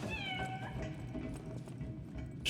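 A cat meows in the Lies of P video game, one drawn-out falling meow followed by a shorter second call, fairly faint over low game ambience.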